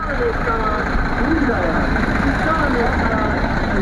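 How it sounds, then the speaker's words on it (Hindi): Tractor engines of a long farmers' tractor convoy on a flag-carrying rally in Uchana rumble steadily and close, with a continuous low drone under constant talk. "सभी किसान ट्रैक्टर गाड़ियां लेकर पहुंचे हैं और आप देख रहे हैं तिरंगे के साथ ये यात्रा निकाली गई है, ट्रैक्टर तिरंगा यात्रा।"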